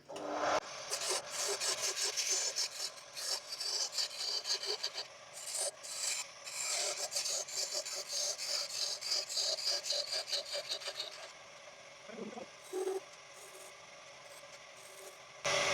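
A turned wooden mallet is parted off and trimmed on a lathe, giving a steady, close, rasping scrape of a tool against spinning wood for about eleven seconds before fading to a quieter hum with a few soft knocks.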